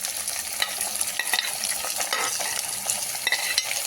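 Onion, green chilli, peas, tomato, carrot and beans stir-fry in a pan, a steady sizzle broken by repeated scraping and clinking from the stirring spoon, heard with no voices.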